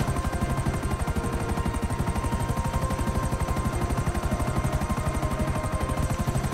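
Helicopter flying in GTA 5, a loud continuous rapid rotor chop with steady pulsing thumps throughout, close and uninterrupted.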